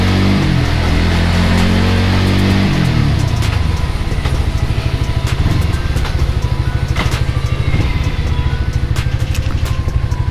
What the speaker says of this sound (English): slide pressure, gas off, gear up, gas back in